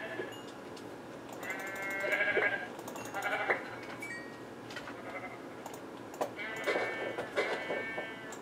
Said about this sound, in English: I'm just gonna kill a bunch of sheep, but not bother cooking food since there's so many here.